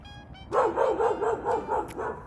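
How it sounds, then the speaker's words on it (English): A neighbor's dog barks over and over in a quick, regular series of loud, close barks, with a brief faint tone just before. "this dog has been barking"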